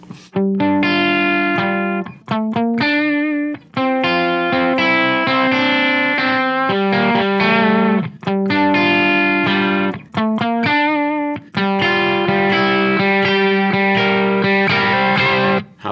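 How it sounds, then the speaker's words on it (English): Electric guitar through effects and distortion sustains a steady drone while a melody climbs up the neck on one string, loud and continuous with several brief pauses between phrases. "A drone while I'm advancing on one string up the neck"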